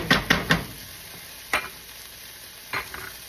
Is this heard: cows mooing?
no